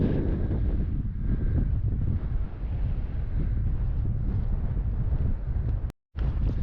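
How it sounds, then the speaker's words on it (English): Strong gusting wind blasts across an exposed hillside in Glen Esk, Scotland, roaring and buffeting the microphone without a break until a brief dropout near the end. "The wind is gusting so strong"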